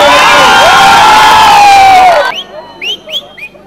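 At a political padayatra rally, a large crowd roars and cheers loudly, then the roar cuts off abruptly, leaving scattered whistles and a few shouts.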